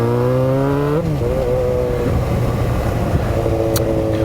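Motorcycle engine running loud and close on a ride, harmonic tones sliding with gear and throttle changes under steady wind rush, with no talking.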